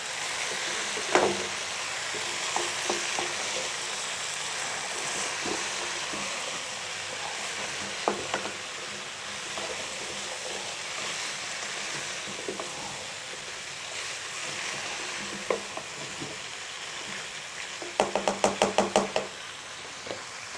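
Cauliflower and chicken (gobi chicken) being stirred and fried in a pan, with a steady low sizzle throughout and scattered knocks of a spoon against the pan, ending in a quick burst of clattering strokes.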